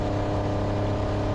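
An endurance race car with low revs or an exhaust fault rolls out of the pit lane at Daytona, a steady droning engine note with a rough, buzzy low end, held at constant volume without revving changes.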